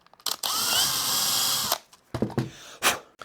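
A power drill whirs loudly for over a second, boring a hole out to 4 mm, then stops; a couple of short bursts and clicks follow as it spins down.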